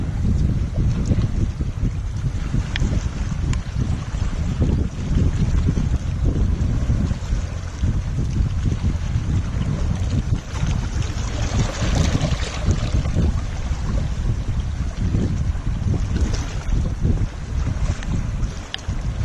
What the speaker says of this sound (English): now I've come out from the shelter, it's quite windy here.